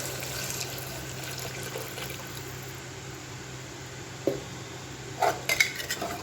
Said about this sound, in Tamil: இப்போ நம்ம தண்ணி ஊற்றி கொஞ்சம் கொதிக்க விடலாம்.